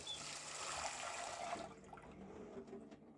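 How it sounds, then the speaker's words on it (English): Water pours steadily into a pan on the stove, about an inch for a bain-marie to melt chocolate, a broad hissing splash that stops after a second and a half, leaving a faint trickle. "I'm gonna pop about 1 inch of water"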